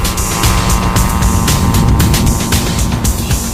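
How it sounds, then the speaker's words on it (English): Small engine of a Benson hybrid aircraft with an overhead rotor in flight, a steady loud droning buzz that holds evenly throughout with no voices. "the Benson uses the thrust of a small engine to push it along"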